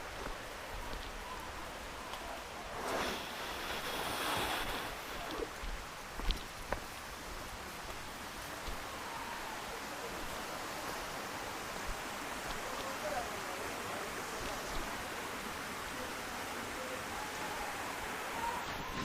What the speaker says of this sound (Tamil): அருவி சவுண்டு நல்ல ஹெவியாக கேட்குது.